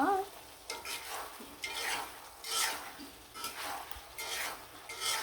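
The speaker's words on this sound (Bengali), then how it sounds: "এখানে কিন্তু চলে আসলাম আবার লাড়াচাড়া দেওয়ার জন্য" A spoon stirring rohu fish curry with beans in a pan, making rhythmic scraping strokes about every second, with a soft sizzle beneath; quiet and close.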